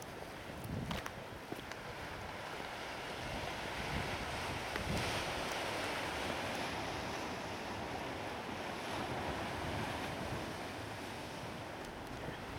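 Ocean surf at high tide at night, a continuous broad roar of breaking waves with some wind buffeting on the microphone, steady and fairly loud throughout, no voices.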